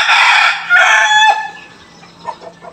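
A labuyo rooster crows loudly nearby in one long cock-a-doodle-doo, followed by a few soft clucks.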